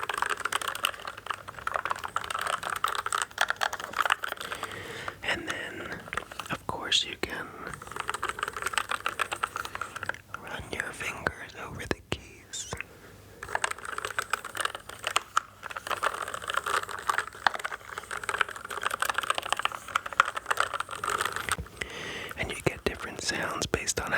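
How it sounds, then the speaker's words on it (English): Mechanical keyboard keys clacking softly under light, gentle tapping, each key shifting on its stem with a slight clack, close-up and continuous beneath quiet whispering. "the slight clack of the key shifting on the stem."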